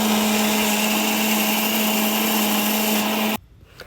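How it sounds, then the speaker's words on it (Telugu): A mixer grinder blending groundnut chutney whirs loudly and steadily for a few seconds, then shuts off abruptly, leaving a quiet room. "కొంచెం నీళ్ళు తీసుకొని తిప్పుకోండి మిక్సీ"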